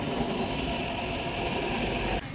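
A loud, steady rumble of an arriving train with heavy engine noise and rail clatter, continuous for about two seconds before dropping off suddenly.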